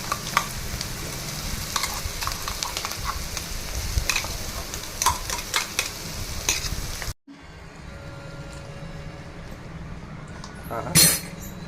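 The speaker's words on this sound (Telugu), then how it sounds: "ఈ పేస్ట్ వేసుకుంటున్నాం" A spiced paste sizzles and fries steadily in a hot pan while being stirred for an egg curry, with scattered utensil clinks over continuous frying noise, then a quieter stretch with a sharp clatter near the end.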